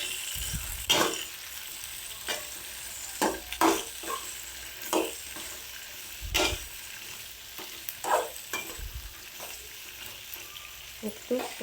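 Chopped tomatoes fry in a pan, a low ongoing sizzle broken by repeated scraping stirs and spatula knocks at irregular intervals, fairly quiet and close.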